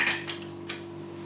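Metal sieve set onto the top of an essential oil distiller pot, a few light metallic clinks and scrapes over a steady low hum.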